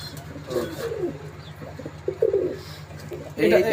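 An imported Sharmila pigeon coos in a loft, low soft rolling calls repeating close by over a steady background hum, with faint chirps from other birds around.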